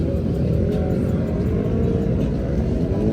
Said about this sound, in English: And the Ford GT is leaving.